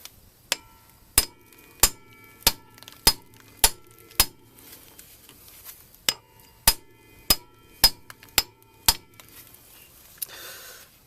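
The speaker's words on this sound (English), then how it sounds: "So, impact driver in the rotor screw there." Hammer blows on a manual impact driver set in a seized brake rotor screw: about fourteen sharp metallic strikes in a steady rhythm roughly half a second apart, loud and close with quiet gaps between.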